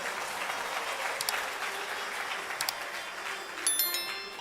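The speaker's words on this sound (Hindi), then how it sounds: "तालियां कुछ ज्यादा मरी मराई नहीं बजी हैं।" Applause from a seated audience at a spiritual discourse, a modest patter of clapping held at a steady level with a few sharper bursts near the end and no voices over it.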